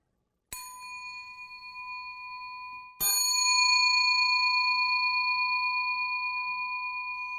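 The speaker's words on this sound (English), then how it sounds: "Listen to the sound of the bell." Two bell strikes ring out, the first alone, the second a few seconds later and louder, each sustaining a clear, steady metallic tone that slowly fades.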